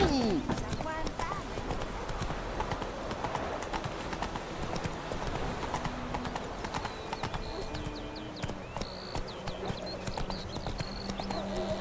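Roach, a horse in The Witcher 3 video game, clip-clops along at a steady walking rhythm, the hoofbeats close and continuous beneath talk and a soft musical score.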